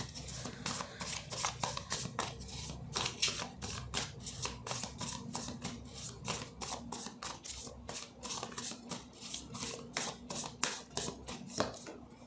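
Tarot cards are shuffled and drawn close by, making rapid, uneven papery flicks and snaps that run throughout without any talking.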